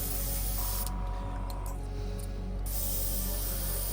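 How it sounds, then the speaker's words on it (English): An airbrush being cleaned out sprays a steady, loud hiss that cuts off for about two seconds in the middle before resuming. "Okay, airbrush is cleaned out."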